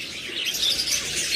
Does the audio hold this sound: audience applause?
no